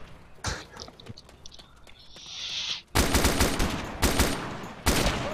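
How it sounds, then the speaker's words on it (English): Gunfire crackles around the player in Arma 2: Operation Arrowhead during a night attack on barns, with loud bursts of rapid automatic shots in the second half after quieter scattered shots, plus a brief whispery voice early on. "Yeah, bullets all around me."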